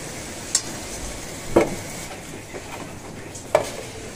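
Fried potatoes are lifted one by one out of a pan of hot oil, with a low sizzle underneath and a few sharp metallic scrapes and clinks of a utensil against the pan.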